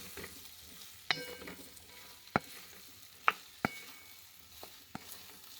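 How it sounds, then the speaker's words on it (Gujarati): Okra stirred and frying in a pan over medium heat, a low steady sizzle broken by about six sharp scraping clacks of the spatula at irregular intervals, close and fairly quiet with no talk. "ભીંડાને આપણે ચલાવી લઈશું અને મીડિયમ તાપે આપણે ભીંડાને"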